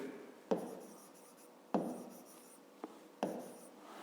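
Pen strokes scratch on paper during a math lesson, four separate quiet, close writing strokes, each starting sharply and trailing off, with silence between them.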